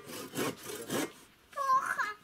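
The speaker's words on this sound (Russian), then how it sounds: "О, это у нас пила, скажи, да? Сама пилит." A hand saw cuts through wood in three rhythmic rasping strokes, close and fairly loud, followed by a brief higher squeaking scrape.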